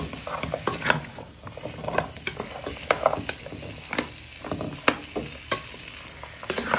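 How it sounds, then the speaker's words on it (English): Onions and courgettes stirred around a frying pan with a utensil, giving steady sizzling and frying with irregular scraping and clacking strokes against the pan, close and alone with no talking. "Give them a little stir."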